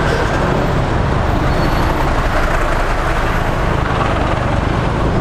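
Dense, heavy road traffic on Commonwealth Avenue in Quezon City, a constant loud wash of bus, truck and car engines with rumbling low noise and no pauses, heard close from within the flow.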